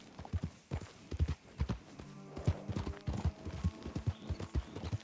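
Horse hooves beat in Red Dead Redemption 2 as a quick, uneven clip-clop of close thuds, with a brief tonal game sound woven through the middle of the run.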